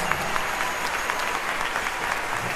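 A crowd at a concert in a municipal theatre claps steadily for a musical group in sustained applause, dense and even throughout, with no talking over it.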